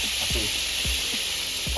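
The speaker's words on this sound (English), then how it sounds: "let's get some consomme and put it in our pan" Birria consomme hits a hot pan and sizzles in a loud, steady hiss, close up, with a few low knocks and thumps underneath.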